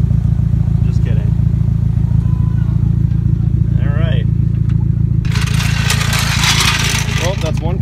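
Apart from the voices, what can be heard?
modified car exhaust running, Nissan S13/S14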